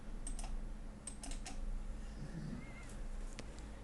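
Rapid, quiet clicks of typing on a computer keyboard, with a few sparse keystrokes over faint room hum.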